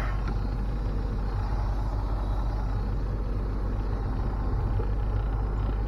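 Semi-truck trailer with its tandem axles sliding back, heard as a continuous heavy diesel idle rumble close by with low mechanical drone throughout.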